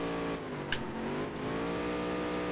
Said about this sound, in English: if it downshifts to third like that, we still don't have the gear right.